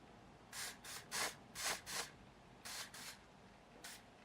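Face spray, applied as orange-tinted tanning makeup, hisses out in roughly eight short, soft bursts, some grouped in quick pairs, with quiet gaps between them.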